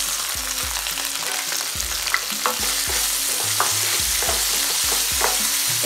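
Olives, capers, anchovies and onion frying in a pan, a busy sizzle broken by repeated scraping stirs in an uneven rhythm, close and clear with no talking.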